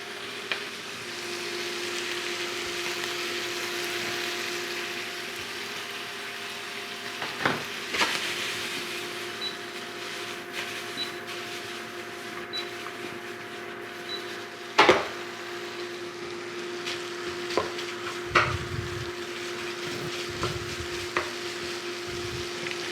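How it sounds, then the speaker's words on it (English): Chorizo sizzles steadily in an aluminium high-sided imarku 11-inch induction pan, with a constant frying hiss broken by sharp scrapes and clacks of stirring and a few louder knocks near the end. "So let's get the chorizo in here and get to cooking and see how this thing works"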